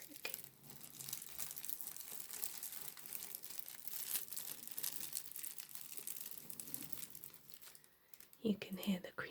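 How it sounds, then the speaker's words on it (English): Soft crinkling of tissue paper packed inside a new handbag, pressed through the bag's fabric, a continuous close rustle with quiet whispery talk over it. "you can hear the crinkly tissue paper underneath."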